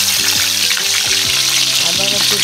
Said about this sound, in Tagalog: Piniprito ko lang ang pampano.